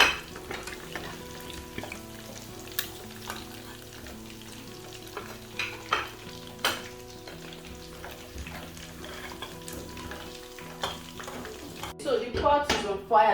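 Chicken frying in hot oil for seafood fried rice, a steady sizzle running throughout with clinks and stirring knocks over it, growing busier near the end.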